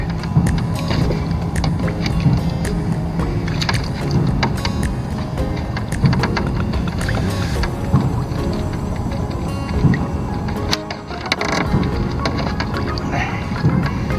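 Water rushes and splashes steadily at close range through an adjustable spray bar on a California Mini Highbanker, with scattered knocks and clatters over the constant spray.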